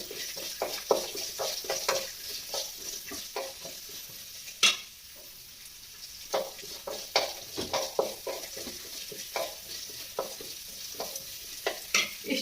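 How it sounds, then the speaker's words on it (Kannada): Onion, cumin and pepper fry in a pan with steady sizzling, broken by frequent spoon stirs and scrapes across the pan, with no talking. "ಸ್ವಲ್ಪ ಈರುಳ್ಳಿ ಅದಕ್ಕೆ ಜೀರಿಗೆ ಮತ್ತೆ ಮೆಣಸು ಇಷ್ಟು ಹಾಕ್ಬಿಟ್ಟು ಸ್ವಲ್ಪ ಫ್ರೈ ಮಾಡ್ಕೊತೀನಿ"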